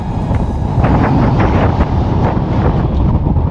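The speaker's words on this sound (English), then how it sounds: "A bit windy." Strong wind buffets the microphone in a continuous low roar on the summit of Scafell Pike, gusting slightly stronger midway, with no voices.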